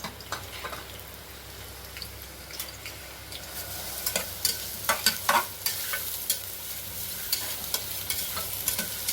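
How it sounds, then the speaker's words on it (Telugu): Sliced onions frying in hot oil for chicken masala, a steady crackling sizzle with occasional louder pops and spatters, close and continuous, with faint stirring ticks. "ఇగో నూనె వేడెక్కింది. ఉల్లిగడ్డ వేసుకుందాం."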